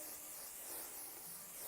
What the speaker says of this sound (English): Spraying again with the City Slay hairspray.